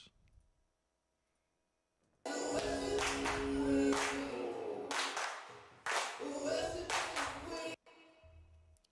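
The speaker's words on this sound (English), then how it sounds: "Then later on in the song, we also have some claps." Handclaps in a song's percussion track, repeated in bursts over the music after a brief quiet opening, with a short gap before the clapping pattern resumes and then cuts off.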